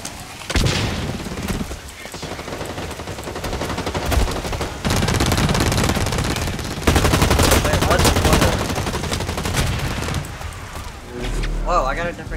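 Rapid automatic gunfire and bursts of shooting in the Blacklight Retribution first-person shooter, loud and sustained across the clip with brief pauses and a few heavy booms, while players talk over it.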